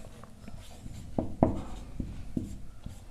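Pen strokes on paper as maths is written out, soft scratchy scribbling with several sharper taps, faint and close over a quiet room hum.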